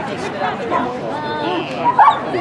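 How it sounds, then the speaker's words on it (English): Several dogs yip, whimper and bark in quick, overlapping bursts at close range, mixed with a busy layer of people chattering throughout. "A lot of doggies."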